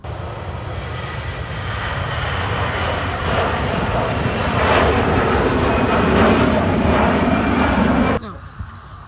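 A Singapore Airlines airliner at Manchester Airport gives a loud, sustained jet engine roar that swells steadily, then cuts off sharply near the end.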